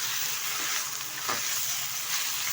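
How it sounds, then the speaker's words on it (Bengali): Washed jute leaves frying in a pan, a steady close hiss of sizzling oil with a soft stirring scrape in the middle. "ভালোভাবে ভেজে নেব পাট শাকটা।"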